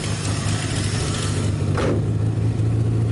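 A Holden VP Commodore Lexen, freshly fitted with new parts and still misfiring, rumbles at low speed around a yard, its engine a steady close drone with a brief swell partway through.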